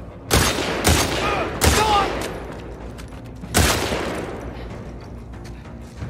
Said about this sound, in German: Mal Schuss im Kopf zur Sicherheit.